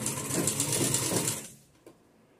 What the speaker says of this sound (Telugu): ఇలా మొత్తం స్టిచ్ చేసేసుకోవాలి నిదానంగా చూసుకుంటూ